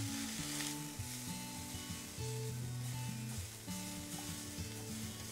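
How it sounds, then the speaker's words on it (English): Onions with added salt brown in a hot pan over a high flame, giving a soft, steady sizzle under a low sustained hum from the stove, quiet and continuous. "And now I'm going to add in some salt to help brown the onion."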